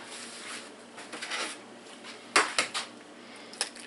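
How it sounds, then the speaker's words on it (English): An egg cracked on a hard edge for a low-carb bacon, egg and cheese sandwich, a sharp close tap followed by a few lighter clicks and shell rustles, with soft kitchen clatter before. "Crack an egg in there."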